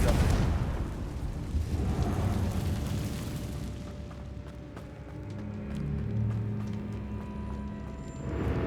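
Confringo fire spell blasts in Hogwarts Legacy, a deep rumbling burst that swells and fades over several seconds, with another blast building at the end, no talk over it.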